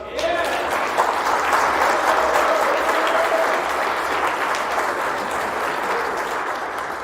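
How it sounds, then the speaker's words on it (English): Heavy, sustained applause from a crowd at a table soccer hall of fame induction ceremony, loud and steady for the whole stretch with a faint voice briefly underneath. "So, heavy applause, please."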